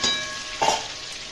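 Pointed gourd fries in a pan with ginger, tomato and green chili pastes, giving a brief, moderate sizzle with a stirring scrape, and no voices.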